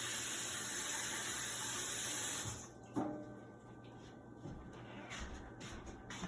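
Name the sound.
water running, rinsing apples under the tap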